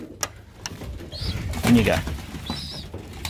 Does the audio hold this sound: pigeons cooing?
yes